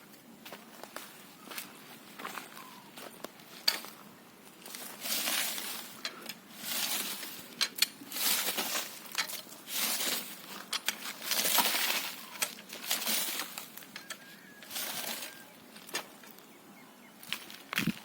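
A weeder tool run over dry, dusty field soil in Melur, Madurai district: repeated scraping, crunching bursts of tines raking the ground in an uneven rhythm, close and fairly faint.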